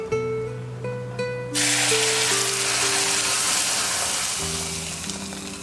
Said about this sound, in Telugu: ఇలా మరుగుతున్న సాంబార్ ఇలా తాలింపు ఇలా వేసుకొని